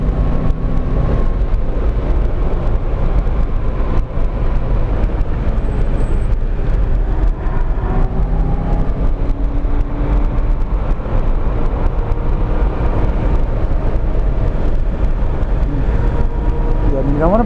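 Loud, steady drone of a car engine pulling uphill in fourth gear, a continuous low rumble heard from inside the cabin, with a voice talking over it.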